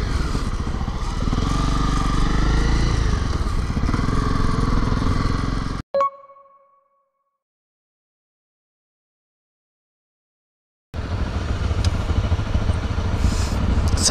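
A red Honda CRF250Rally motorcycle at a highway oasis meeting point gives loud, continuous engine and riding noise that cuts to near silence with a couple of brief tones, then returns just as loud near the end.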